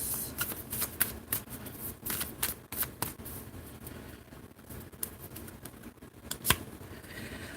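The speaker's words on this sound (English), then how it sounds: "So let's go ahead and pull another card" Oracle cards are shuffled by hand before a reading, giving repeated riffling, slapping bursts in an uneven rhythm, close and fairly soft, with no voice over them.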